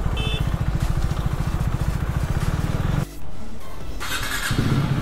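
A KTM Duke 390 motorcycle engine runs close by with a throbbing single-cylinder rumble, briefly cut off near the middle before a burst of revving and airy hiss resumes.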